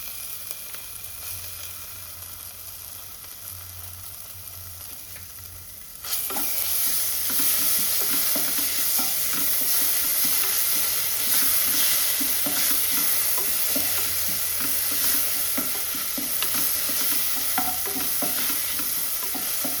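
Garlic ginger paste hitting a pan with onion for masala stuffed brinjal: quiet background at first, then a sudden loud sizzle that keeps going with rhythmic scraping of a spoon as it is stir-fried.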